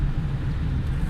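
A 2007 Suzuki Cultus automatic is driven along, with a steady low engine and road rumble heard from inside the cabin.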